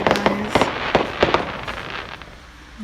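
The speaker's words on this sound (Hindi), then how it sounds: "देखिए पटाखे शुरू हो गए थे" Firecrackers and fireworks for a Fourth of July celebration pop and crack in quick succession, with several sharp bangs that fade toward the end, heard at moderate distance with no talking.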